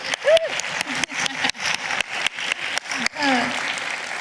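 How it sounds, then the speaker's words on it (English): An audience at a conference panel applauds, a dense rolling clatter of many hands that lasts throughout, close and fairly loud, with a voice speaking over the clapping. "let's give them a round of applause, please"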